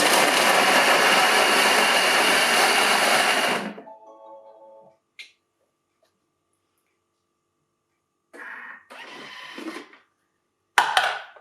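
A food processor whirs loudly and steadily for about four seconds as it chops carrots and garlic for a tomato pasta with veg and feta, then cuts off, leaving a few faint clicks and handling noises.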